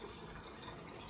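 Kombucha pours steadily to fill containers, a quiet, continuous liquid rush with no talk over it.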